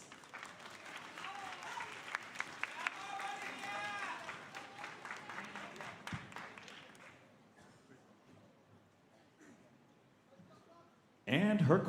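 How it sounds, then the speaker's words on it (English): Audience applause for Miss Bolivia at a beauty pageant swells as a wash of clapping over an announcer's voice, fades into quieter hall ambience, then a sudden loud burst returns at the very end. "Please give her a round of applause."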